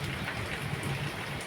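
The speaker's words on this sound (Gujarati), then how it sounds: "તો જોવા અત્યારે ફૂલ વરસાદ ચાલુ છે" Heavy out-of-season rain falls over a village, a dense, even hiss of drops coming down steadily at moderate volume with no voices.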